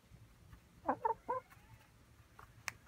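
A hen close by gives three quick, soft clucks in a row, then a couple of fainter clucks and light taps against a quiet background.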